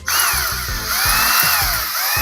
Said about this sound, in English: I'm going to drill where there are these little divots